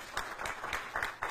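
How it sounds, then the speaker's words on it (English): Faint, thin applause from a conference audience, heard at a distance with soft, uneven claps for little more than a second. "He really does deserve an applause."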